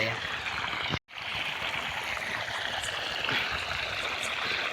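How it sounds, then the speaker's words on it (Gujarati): Irrigation water flowing from a small pump motor on a farm, a steady, fairly loud rushing and trickling stream that runs continuously, broken only by one brief cut near the start. "પાણી મોટર નાની છે એટલે એટલું એટલું માપે માપે આવે છે"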